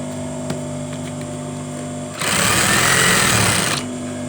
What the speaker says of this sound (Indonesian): Oke, lanjut kita jahit. Kita jahit terus.